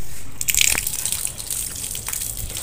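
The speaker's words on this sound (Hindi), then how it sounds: "चलो गाइस हाथ धो लेते हैं।" Water gushing from a tap onto hands being washed after kite flying, a steady splashing rush with a few brighter drips and spatters near the start, close and moderately loud throughout.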